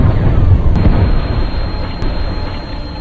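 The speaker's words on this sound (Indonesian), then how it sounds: "bom pun diledakkan" A bomb blast in the war film Sniper White Raven: a deep, loud, rumbling roar already underway, slowly fading over a few seconds, with no voices.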